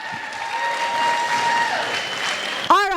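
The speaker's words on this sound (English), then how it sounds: "Give him a huge round of applause." Applause at a gala fundraiser auction after an item sells for $1,000, a room of hands clapping steadily for about three seconds before a loud voice cuts in at the end.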